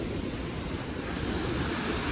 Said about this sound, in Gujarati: આ છે જોગની વોટરફોલ